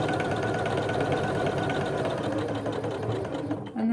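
A sewing machine stitches a coaster with variegated thread, its needle hammering in a fast, even mechanical rhythm close by, running continuously before stopping abruptly near the end.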